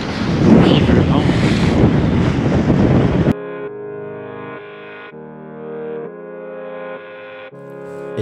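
Heavy wind at sea roars and buffets the microphone for about three seconds, then cuts abruptly to steady instrumental music.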